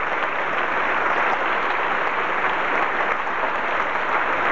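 An audience at a concert in Thessaloniki claps enthusiastically for two German performers after a Debussy piece, a dense, even wash of applause sustained throughout at moderate distance with no speech.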